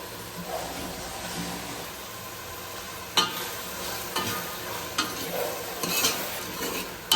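Tomato added to masala frying in a pan, a steady soft sizzle with occasional sharp clinks and scrapes of a utensil stirring.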